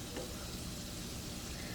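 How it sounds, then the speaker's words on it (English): Chicken strips frying in hot oil, a steady dense sizzle that fills the space evenly at close range with no talking. "the oil should be sizzling now"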